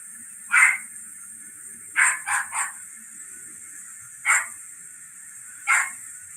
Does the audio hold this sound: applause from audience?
no